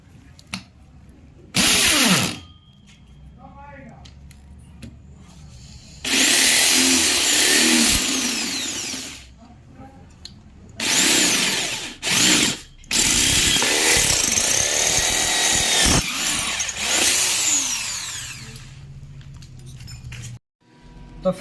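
A handheld power drill bores holes into the steel tubing of a folding bed frame, with loud sustained grinding bursts of several seconds each, broken by short pauses and quieter handling sounds between cuts.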